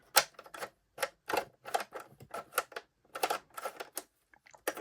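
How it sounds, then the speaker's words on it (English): A 3-position mode switch on a 2006 VTech Grow and Go ride-on toy makes a rapid series of sharp plastic clicks and clacks. They come close and irregular, in short bursts with brief pauses between. "you have a 3-position mode switch. Mine does click,"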